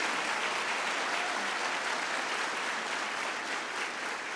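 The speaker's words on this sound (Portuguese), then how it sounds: "Maravilha, pode aplaudir, irmãos." A church congregation applauds during a Sunday morning service, steady dense clapping filling the room at an even level throughout, with no voices over it.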